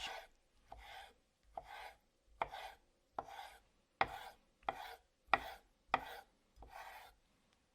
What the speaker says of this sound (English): slice up a couple pieces of some roasted red peppers